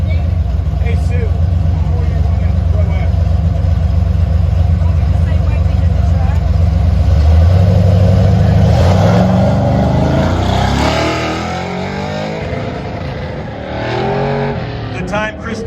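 Trucks in the truck class at the Goodguys King of the Desert autocross roar loudly, engines revving up and sweeping in pitch before easing off. An announcer talks over the engine noise.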